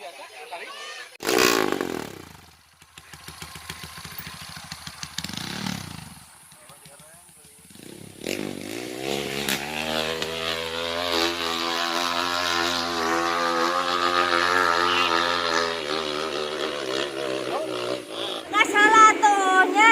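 A trail motorcycle on a sandy track in Bandung Barat is held at full throttle. The engine drone builds and stays loud and steady for about ten seconds after brief revs and a few voices at the start.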